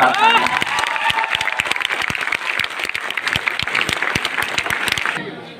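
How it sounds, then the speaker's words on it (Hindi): An audience at a meeting in Hazaribagh breaks into steady applause, sharp close claps over a dense crowd wash after a moment of speech, continuing throughout before cutting off at the end. "पहले अजीत जी के लिए तालियां बजाइए"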